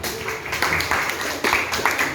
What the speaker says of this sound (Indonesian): Tepuk tangan buat Fadli.